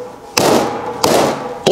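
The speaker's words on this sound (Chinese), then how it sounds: "再把蹄子砍开" A cleaver chops apart beef hooves on a board: three sharp, heavy whacks spaced about two-thirds of a second apart, each ringing briefly before fading, close and loud with nothing else around.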